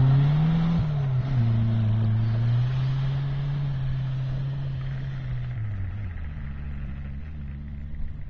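A Renault 4L van's engine drives on a first test run, a steady low drone that holds a constant pitch, then dips and settles lower near the end.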